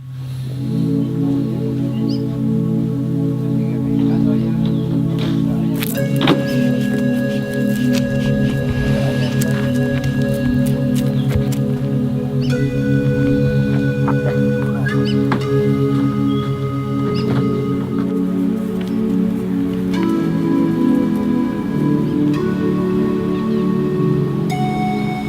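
A pump hums steadily at a biodynamic winery in Maipo Valley while fermenting wine is pumped over, with liquid sloshing, faint squeaks and clanks layered over the constant machine drone.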